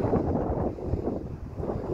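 Strong wind buffets the microphone beside a cliff face, a loud, low, rumbling roar that surges and eases throughout.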